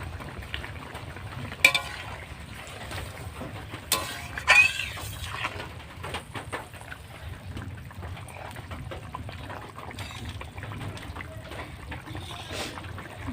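Bata and katla fish sliding one by one into hot curry oil in a Bengali home kitchen, a soft steady sizzle with a few sharper pops and clatters, quiet and close, no talking.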